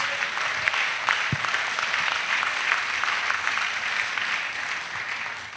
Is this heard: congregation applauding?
yes